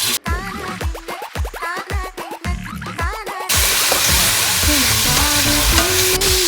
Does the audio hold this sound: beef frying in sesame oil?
yes